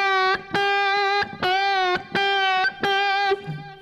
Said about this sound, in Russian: Пребенд и опускаем его вниз.